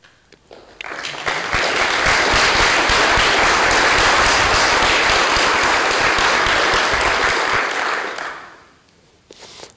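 A room full of attendees at a Samba4 Active Directory tech talk bursts into loud, dense applause that swells quickly, holds steady for about seven seconds, then tapers off.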